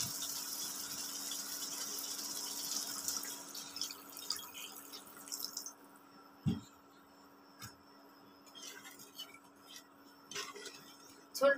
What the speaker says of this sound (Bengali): এখন আমি এখানে ঝোলটা দিয়ে দেবো।